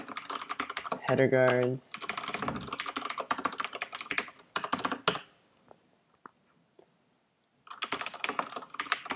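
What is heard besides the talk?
typing on a computer keyboard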